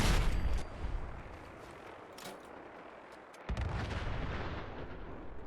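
A loud gunshot booms out at the start of Fallout 4 gameplay and leaves a rumbling, fading tail, with a second heavy blast arriving a few seconds later.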